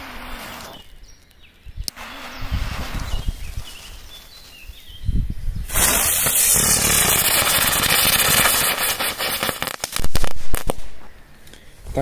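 A box of firecrackers goes off in a forest, giving a long, loud run of rapid crackling bangs and hissing bursts that swell and fade outdoors.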